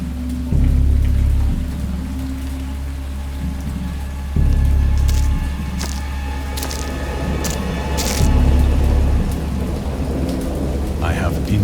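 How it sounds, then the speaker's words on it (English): Steady rain pours throughout while deep thunder rumbles roll in repeatedly, loud and close, with scattered sharp crackles, from a storm at sea in a video game. "Indistinct recollections of a great storm sometime after I reached the boat."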